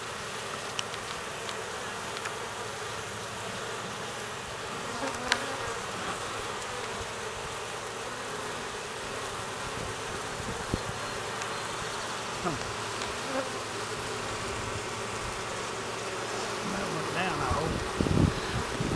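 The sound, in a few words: drone honeybee buzzing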